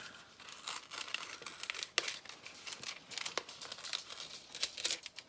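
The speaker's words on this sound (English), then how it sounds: "now what we want to do is just carefully open these envelopes up" Paper envelopes are slowly and carefully pulled open, giving soft crinkling and tearing rustles with a few sharper crackles, close by and without talk.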